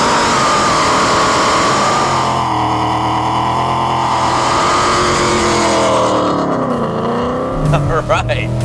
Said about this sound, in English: a nice big smoky burnout here in Brian's 2015 GT